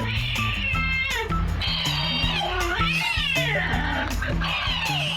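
An angry cat attacking a toy mouse gives a continuous, loud caterwauling growl with wavering yowls and meows close by, steady throughout.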